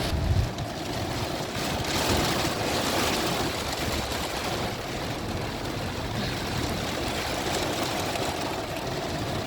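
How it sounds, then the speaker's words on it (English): Heavy rain pours steadily onto the roof of a camper van, a dense, unbroken hiss and drumming that stays loud and even throughout, heard from inside with no voices. "because it's pouring down"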